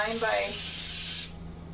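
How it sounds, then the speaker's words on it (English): Buttery cooking spray hisses steadily from a can into a 9 by 11 baking pan, a close, continuous spray lasting just over a second before cutting off abruptly. "I'm going to start out by spraying this can."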